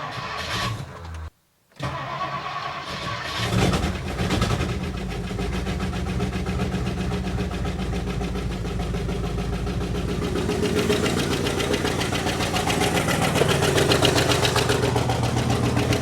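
An abandoned construction vehicle's engine cranks, catches after a brief pause and settles into a loud, rough, steady idle with a rhythmic knocking tick that grows slightly stronger toward the end.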